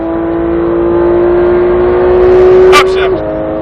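Car engine on a race track during a driving lesson, a steady loud engine tone climbing gradually under an instructor's talking, then a sharp drop in pitch as it upshifts near the end.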